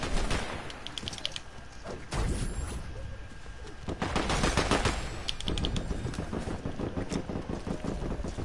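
Rapid bursts of gunfire from a Fortnite match, with repeated sharp shots in quick runs and a few louder blasts, some close and some distant, over a busy game background without talk.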